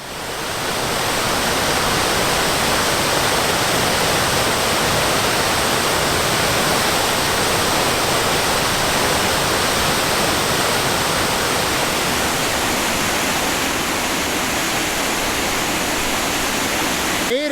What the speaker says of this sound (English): Made it to Center Falls, baby.